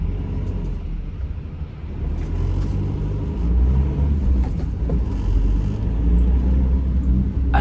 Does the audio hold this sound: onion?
no